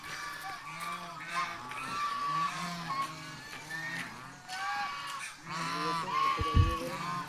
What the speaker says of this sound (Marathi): खूप सारे बदक आहे